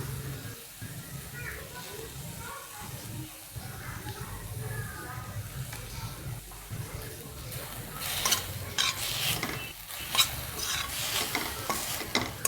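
Vegetables for Hakka noodles stir-fry in a pan coated with soy, chilli and tomato sauces, making a continuous sizzle and stirring scrape that grows busier and louder near the end, with a voice talking throughout.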